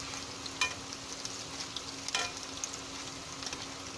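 Ground onion and garlic spice paste frying in a pan, a soft, even sizzle with a couple of brief sharper crackles, fairly faint and steady with no voices.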